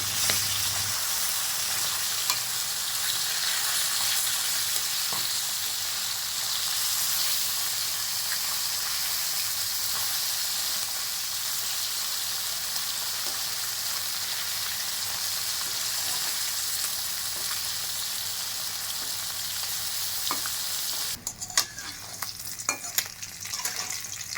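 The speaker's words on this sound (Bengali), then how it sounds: "কই মাছগুলো ভাজা হতে থাকুক," Steady, loud sizzling of koi fish frying in hot oil in a pan runs throughout, with a few sharper crackles and pops near the end.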